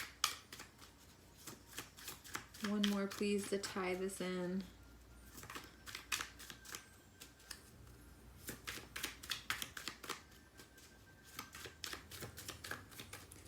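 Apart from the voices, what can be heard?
shuffling tarot cards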